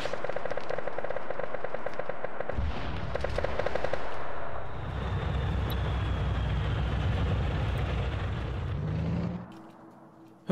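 An anti-tank weapon fires in an Arma 3 battle: rapid gunfire chatter gives way to a loud blast and a long, rolling rumble that fades out.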